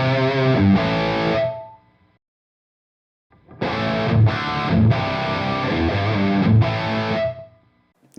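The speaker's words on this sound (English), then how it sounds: "Nice reverb sounds, very, very nice." Loud, distorted electric guitar chords played through a Revv G20 amplifier set to Hall B reverb: a short burst, a brief silence, then several more struck chords, each letting ring into a fading reverb tail.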